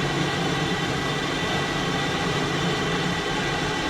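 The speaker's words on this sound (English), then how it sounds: "The aircraft runs up its Pratt & Whitney JT3D turbofan jet engines." Pratt & Whitney JT3D turbofan jet engines running up toward maximum power in the naval combat game Sea Power, giving a steady, loud broadband roar that holds level throughout without talk.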